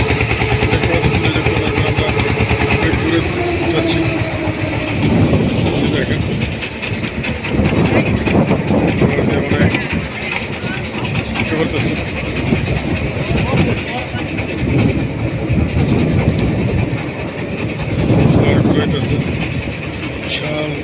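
A motorized trawler boat's engine runs during a river crossing, its loud, steady mechanical chugging and clatter continuing without a break throughout, with occasional swells in intensity.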